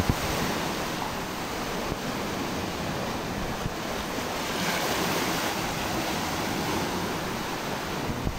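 Continuous broad wash of sea waves and surf, steady and fairly loud, with wind rushing across the microphone.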